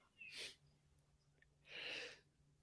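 Two quick sneezes, close and fairly soft, separated by a short pause over a quiet background hum.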